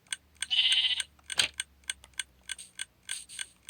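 Sheep bleating inside the Minecraft video game, a few wavering bleats near the start followed by a series of short, evenly spaced synthetic blips, fairly quiet and with no talking.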